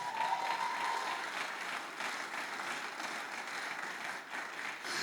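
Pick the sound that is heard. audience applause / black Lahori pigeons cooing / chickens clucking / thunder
audience applause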